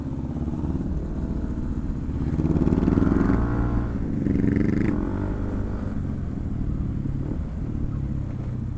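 A motorcycle engine revs hard at high RPM in third gear, a loud close rumble that swells around the middle and then settles into a steady drone, with no one talking.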